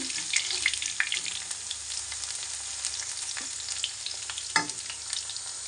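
Pakoras bubbling and crackling in a pan of hot oil, a continuous near sizzle with scattered pops and one sharper clatter, no voices.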